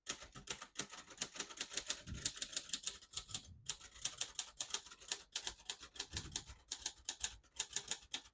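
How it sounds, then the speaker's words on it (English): A 1955 Royal Quiet De Luxe portable typewriter is typed on, giving rapid, close, crisp key strikes in an uneven rhythm with brief pauses between bursts. "Legendary typewriter, made in the USA."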